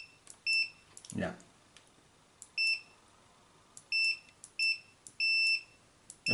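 A multimeter's continuity tester beeping as a faulty Victsing computer mouse button is clicked, several short, bright electronic beeps of varying length at a steady pace, with one brief voice sound near the start.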